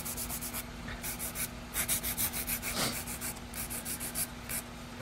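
Nail file rubbing back and forth along the edge of a long stiletto-shaped acrylic nail, a close, steady rhythmic scratching of quick even strokes with a brief pause near the middle.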